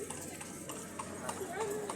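Horse hooves clip-clopping on pavement during a carriage ride through Intramuros, a steady rhythmic clatter at moderate distance heard under ongoing conversation.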